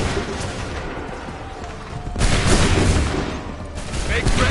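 Musket volleys crackle in an Assassin's Creed battle, a dense, sustained roar of massed gunfire that swells louder midway, close and continuous with no clear gaps.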